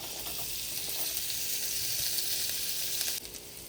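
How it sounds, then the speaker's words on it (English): Butter, shallots and garlic sizzle steadily in a skillet, a loud, close, continuous crackling hiss with no talking, dropping slightly in level near the end. "Then you want to add just a half a stick or more butter back to your skillet."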